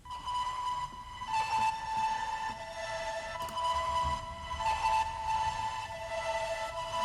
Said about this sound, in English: Which again was a prepared piano on its own.